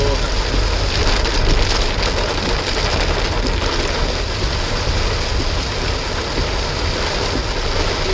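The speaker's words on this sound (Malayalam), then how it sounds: "എന്നാലും ഭയങ്കര മഴ" Torrential rain pounds on a car travelling through hilly forested country toward Trivandrum, a loud unbroken hiss layered over low engine rumble, with a person speaking over the downpour.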